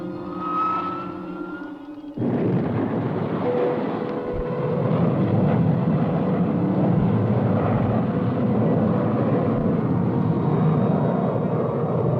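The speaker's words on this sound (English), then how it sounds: "Reversing ship for landing." A cartoon spaceship reverses and fires retro rockets for landing. A tone and a hum suddenly give way to a loud, steady rocket roar with a rising whine, continuous and close.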